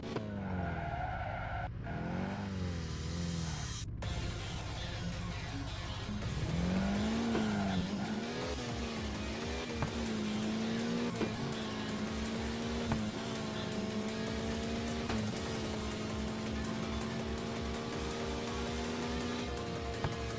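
A race car in a video game drives with a continuous engine drone that rises and falls through gear changes, and tires squeal and skid at times, loud and steady with no talk.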